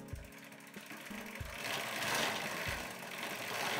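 A small electric motor turned as a generator through a second chain drive giving extra gear reduction, producing a steady mechanical whirring and clicking chain rattle, fairly close and continuous with rhythmic knocking pulses, no voices.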